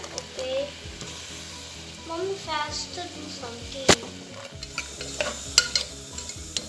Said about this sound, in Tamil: நான் இப்போ வந்து வெங்காயம் ஆட் பண்ணுறேன்